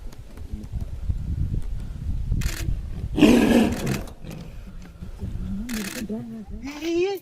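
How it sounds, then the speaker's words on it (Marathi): A tiger's loud, rough roar bursts out midway through ongoing talk, with shouting voices around it and a rising cry near the end. "तुपू वाघ आला वाघ आला"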